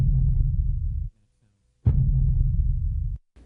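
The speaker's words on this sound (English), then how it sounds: "we used primarily the sound of the canoe being lifted out of the pool and slammed down about 2 or 3 feet" Canoe lifted and slammed down into a pool, played as distant depth charges: two deep, muffled booms, each rumbling for about a second before stopping abruptly, with silence between.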